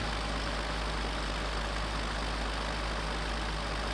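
Steady, droning tractor engine from Farming Simulator 17, running continuously with a low heavy rumble and no breaks, alone without voices.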